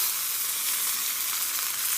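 Garlic fries in oil in an iron wok, giving a dense, even, close sizzle that runs without a break and has no voices over it.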